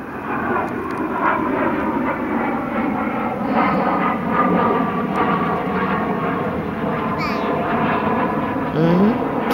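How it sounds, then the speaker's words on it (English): An airplane drones steadily overhead in the woods, a continuous engine rumble that lasts the whole stretch, with people talking over it. "Plane."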